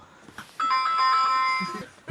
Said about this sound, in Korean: 초인종이 울렸어요